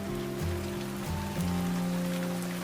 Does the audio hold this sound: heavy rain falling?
yes